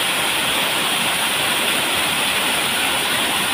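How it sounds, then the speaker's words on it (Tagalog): Waterfall at Langun Gobingob Cave in Samar, a steady, dense roar of falling water, loud and unbroken throughout with no voices. "Woo! Yeah, nice waterfall."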